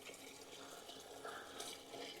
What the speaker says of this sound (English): Look how the water's on quite fast on this one.